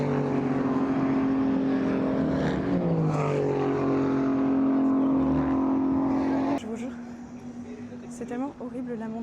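Race cars roar past and away at an ELMS race at Spa, loud engine noise sweeping by, then it drops off to quieter background with some voices.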